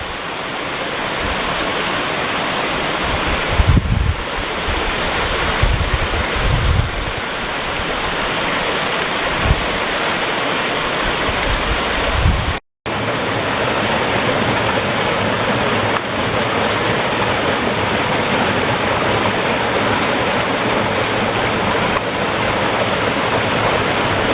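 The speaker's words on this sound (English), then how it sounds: "And the waterfalls just continue." Steady, loud rushing of a waterfall near an abandoned coal mining village pouring continuously, a dense broadband roar with occasional deeper splashes and a brief dropout midway.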